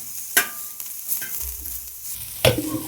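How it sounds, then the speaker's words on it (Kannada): Oil frying for mutton sambar, stirred until it turns reddish, with a steady close sizzle and a few sharp scraping knocks from the spoon against the pan; no talking. "ಚೆನ್ನಾಗಿ ಫ್ರೈ ಆಗಲಿ."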